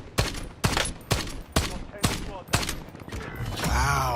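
Rapid bursts of video game gunfire, about eight sharp shots spaced roughly half a second apart, loud and close, ending in a sustained ringing, whooshing effect.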